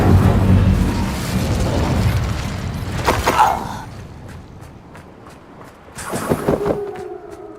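A fire spell cast in the Hogwarts Legacy video game bursts out as a sharp whooshing blast, followed a few seconds later by another crackling burst over rumbling in-game ambience.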